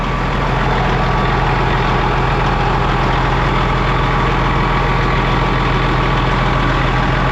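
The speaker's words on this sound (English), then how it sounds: "Good old Detroit diesel." A loud Detroit Diesel engine in a combine harvester idles steadily, a deep rumbling drone with constant vibration and no pauses, close by.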